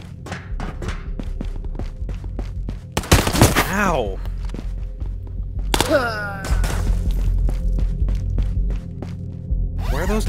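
Gunfire in the hardcore VR shooter Ghosts of Tabor: a string of sharp, distant-sounding single shots and bursts tapping through the clip, broken by two loud close blasts, with a steady background hum throughout.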